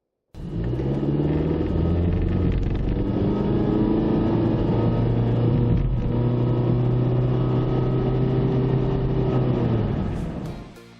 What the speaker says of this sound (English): the transmission noise itself is intrusive when accelerating, but when maintaining speed, it's actually pretty quiet